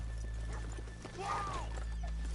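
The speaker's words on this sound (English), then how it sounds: "let's leave the horses here off the main drag" Horses in the Red Dead video game giving a single whinny amid soft hoof clip-clop on a town street, over a steady low hum.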